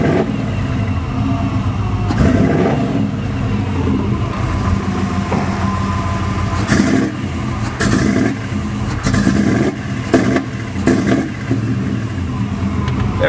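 A 383 stroker V8 engine with a bad chip revs under throttle, a loud, rough roar rising and falling in several uneven surges over a continuous rumbling idle.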